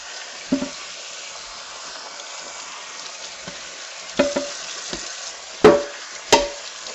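Running water rinses play sand out of the burnt bottom of a cooking pot, a steady soft hiss broken by a few sharp scrapes and clunks of the pot near the end.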